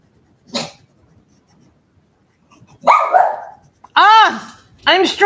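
A dog barks and yelps indoors, close and loud, with a short sharp bark followed by a series of rising, whining barks in quick succession.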